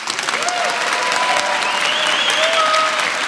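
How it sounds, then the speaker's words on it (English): Applause from a keynote conference audience, dense and continuous at a steady level, with faint voices and whoops rising above the clapping. "So can you guys give him a bigger applause"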